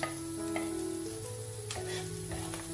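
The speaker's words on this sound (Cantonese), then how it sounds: "稍微將佢爆香" Minced ginger and garlic sizzle in a little oil in a wok, a steady bright crackle running throughout beneath sustained tonal background music.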